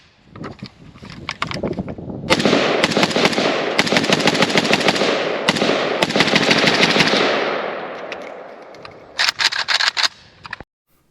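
A KUSA KP-104 rifle fires at a shooting range: loud, close bursts of rapid shots build into a sustained roaring stretch of fire, then a final quick string of shots before silence.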